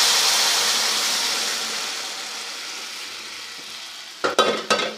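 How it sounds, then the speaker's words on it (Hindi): Sugar syrup poured into hot semolina halwa gives a strong, steady hiss and sizzle that slowly fades, then a few sharp clatters of a spoon or pan at the end. "अब हम यहाँ पर बहुत ही एहतियात के साथ बहुत हल्के हल्के चीनी वाला सिरप शामिल करते हैं"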